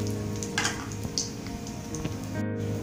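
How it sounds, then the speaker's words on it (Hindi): Raisins and cashews fry in hot oil with a quiet, steady sizzle and scattered soft pops and crackles, close by and without any talking. "अब इसमें ये जो ड्राई फ्रूट्स हैं, रेजन्स, किशमिश और काजू, ये हमें थोड़े फ्राई कर लेने हैं।"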